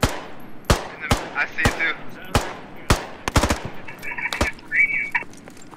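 Gunfire in the Squad military shooter game: single sharp shots and a quick burst, spaced irregularly and loud up close, with a player talking briefly over the shooting.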